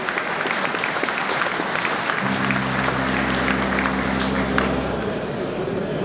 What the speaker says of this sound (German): Und ich bitte Sie dafür um einen recht herzlichen Applaus für diese super Fersen.